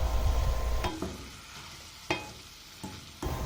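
Kangkong and gourmet tuyo stirred in a pan, with a low continuous sizzle broken by several sharp scrapes and knocks of the utensil against the pan.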